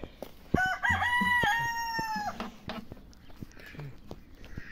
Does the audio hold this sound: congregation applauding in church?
no